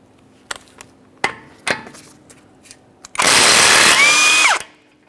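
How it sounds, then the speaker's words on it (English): A few sharp metallic clanks and taps, then a loud burst of a power tool spinning a 34mm socket on the front axle nut of a 2015-2019 Subaru Outback for over a second, whining higher as it winds down. "We'll be using a 34mm to remove our axle nut."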